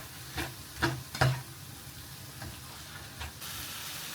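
Paella ingredients stir-fried in a pan, with a steady sizzle broken by a few louder scraping stirs near the start and another toward the end, close and fairly quiet, with no talking.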